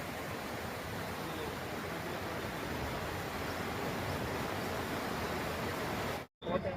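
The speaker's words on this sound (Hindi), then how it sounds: "देखो, ये वही पानी है जो मेरे पीछे आवाज़ आ रही है" Steady broadband rush of water from Jubilee Fall near Manali during the rainy season, a close, constant roar that cuts out briefly near the end.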